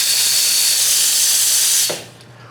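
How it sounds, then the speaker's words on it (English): Loud, steady steam hiss from the Pro Touch steam wand on a La Marzocco KB90 espresso machine, running continuously for about two seconds before cutting off sharply, leaving a faint low hum from the machine. "you can let those steam wands rip and you're not going to get burned"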